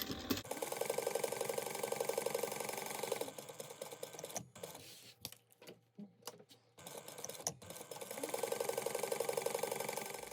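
A sewing machine stitches a laptop bag pocket with an eighth-inch seam, back-stitching at the start and end, in two rapid ticking bursts separated by a quieter pause filled with small handling clicks.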